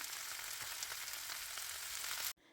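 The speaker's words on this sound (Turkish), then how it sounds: "Güzelce kavrulan soğan ve biberlerin üzerine haşlamış olduğumuz yeşil fasulyeyi ilave edelim. Ve hepsini beraber karıştıralım." Boiled green beans fry with sautéed onions and peppers in a pan, giving a dense, loud, steady sizzle that stops abruptly near the end.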